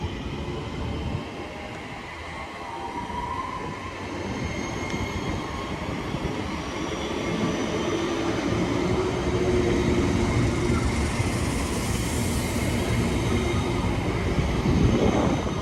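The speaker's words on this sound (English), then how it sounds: "there goes the 12:08 West Midlands Railway service to Bromsgrove via Birmingham New Street" West Midlands Railway Class 323 electric multiple unit, 323201 coupled to 323216, passing close by on the Cross City Line at Lichfield with a steady loud rumble and wheel noise, building then holding for the full length.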